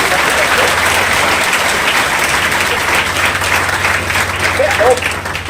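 A crowd of children and adults at a Hindi poetry gathering honoring a social worker's memory give loud, sustained applause, a thick continuous roar of clapping with some voices mixed in.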